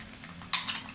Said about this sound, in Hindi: अब मैं क्यूब्स किया हुआ चिकन जो मैंने हाफ प्याली लिया है वो उसमें डाल दूंगी।